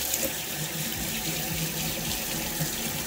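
A tap runs steadily into a sink while paintbrushes are rinsed under the stream, a soft continuous splashing gurgle heard close and alone.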